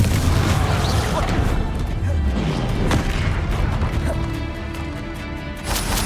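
Spell impacts from casting Confringo in Hogwarts Legacy, a dense run of booming, crashing bursts over a continuous loud game soundscape, with low rumbling tails and no clear speech.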